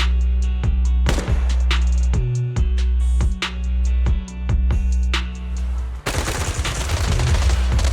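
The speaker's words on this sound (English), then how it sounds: "Gunfire? This pattern. This oppressive marching fire." Heavy, rhythmic marching gunfire from the video game Zenless Zone Zero, loud repeated shots with ringing echoes, then a denser burst of rapid fire near the end.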